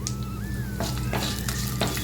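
Oil sizzles and crackles steadily in a hot pan, with small popping bursts as mustard seeds and dried red chillies fry, up close.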